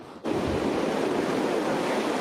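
Ocean surf and gusting wind roar continuously at Old Orchard Beach, Maine, as Post-Tropical Cyclone Lee moves away, a loud, dense wash of breaking waves and wind buffeting the microphone.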